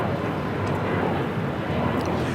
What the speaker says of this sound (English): This is Alaska Airlines flight 1147 taking off to Seattle.